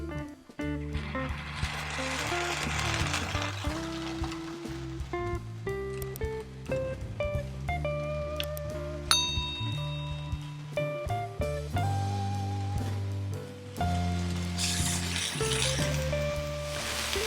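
Beef filets laid on a Blackstone griddle at about 450 degrees sizzle loudly and continuously, with crackling bursts rising and falling throughout and no talking.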